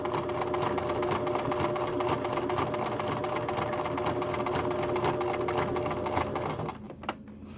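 A sewing machine stitches back across embroidery with a steady, close, rapid needle chatter that stops abruptly near the end, leaving a brief click and quiet.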